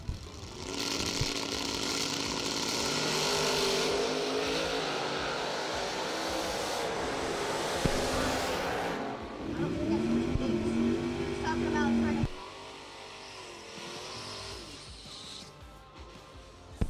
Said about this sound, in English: Going against that Chevy 2, Richard Dukes, 534